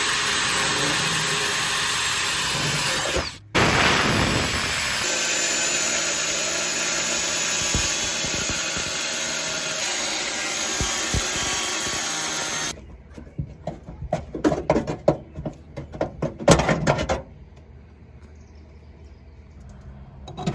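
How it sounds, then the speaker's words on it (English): A power tool drilling and cutting holes in a metal truck bed for a cargo tie-down point whines loudly and steadily for several seconds, then gives way to short, irregular bursts of cutting and grinding. "now we're gonna drill some holes to start it and cut it out"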